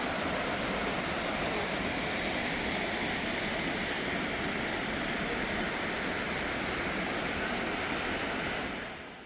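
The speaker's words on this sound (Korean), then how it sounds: "왼쪽으로 커다란 폭포 소리를 들으며 걷는 코스입니다." Large waterfall at Jaein Falls in Yeoncheon roars steadily nearby as a dense, unbroken wash of rushing water along a forest walking trail, loud and constant before cutting off at the end.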